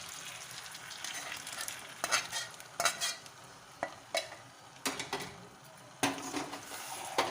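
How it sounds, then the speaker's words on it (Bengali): Spices frying with fish heads in a pan, a quiet sizzle broken by repeated scraping, knocking strokes of a spoon stirring against the pan at an irregular pace. "মাথাগুলো দিয়ে মশলাটা কিছুক্ষণ একটু কষিয়ে নেব।"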